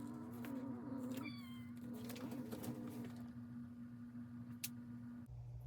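Cats meowing and caterwauling at each other indoors, drawn-out tonal yowls early on over a steady background hum, then quieter rustling.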